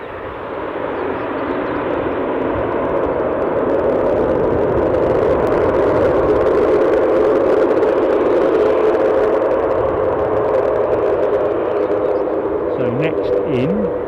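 Eastern Airways airliner, the Aberdeen flight, at Newcastle Airport, a loud continuous jet roar holding steady for the whole stretch with a faint voice near the end.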